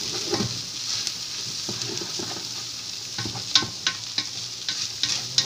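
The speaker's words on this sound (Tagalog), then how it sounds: "haluin natin" Chicken bopis fries in a pan while a spatula stirs it, giving a continuous sizzle with repeated scraping clicks and knocks growing busier in the second half, no voices.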